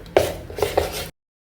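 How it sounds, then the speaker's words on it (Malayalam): Thick unniyappam batter made from raw rice being stirred in a bowl, a few short scraping, slapping strokes close by, then abrupt silence. "നന്നായിട്ടൊന്ന് മിക്സ് ചെയ്യാം."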